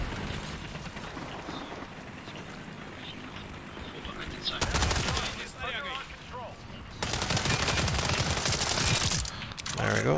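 Gunfire in the video game World War 3, sustained automatic bursts in two loud stretches separated by quieter moments of movement and distant shots, dense and close.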